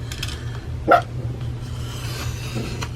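Small dogs give a single short yappy bark as someone enters an office, standing out briefly above a steady low hum of room noise.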